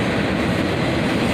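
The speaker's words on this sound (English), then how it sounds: "This was another monster-long freight train." A very long freight train led by a Union Pacific ES44ACH locomotive rolls past: loud, steady rumbling with wheel clatter on the rails, continuous throughout with no voices.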